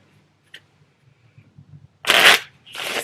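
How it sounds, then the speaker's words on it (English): A deck of playing cards is shuffled: after a near-silent stretch with small handling ticks, two quick riffling bursts follow, the first louder and longer, close up. "we will just put the Ace of Diamonds back in and shuffle"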